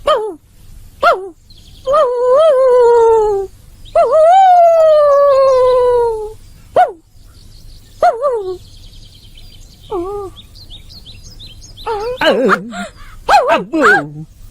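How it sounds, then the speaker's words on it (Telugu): A dog in a family movie scene gives sharp close barks, then long wavering howls that rise and fall, with pauses between and a burst of quick yelps near the end. "బావు బావు, కుక్క మురిగినట్టే ఉంది."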